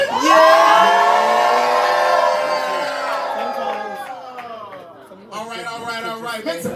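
A poetry slam audience cheers and whoops loudly, a crowd of voices yelling together that swells at first, fades, then rises again.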